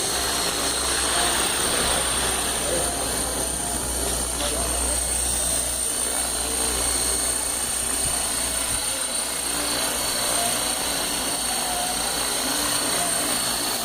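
An HK 450 GT radio-controlled model helicopter hovers in steady flight, its rotor and motor giving a constant loud whine and buzz while people talk over it.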